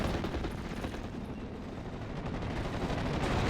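STG-44 assault rifles fire in the World War II video game Steel Division: Normandy 44, a dense, continuous crackle of rapid gunfire and distant battle noise filling the whole stretch at moderate level.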